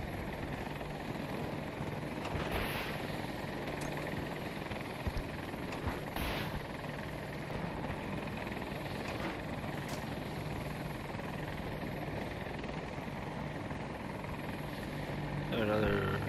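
In the video game Battlefield 2042, a helicopter drones with a steady, fairly faint rotor and engine hum that runs continuously, with voices speaking over it.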